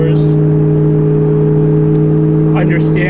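A supercharged 2004 Mustang Cobra with an aftermarket Gen 3R blower accelerating, giving a loud, continuous engine drone with a steady whine, and someone talking over it near the end.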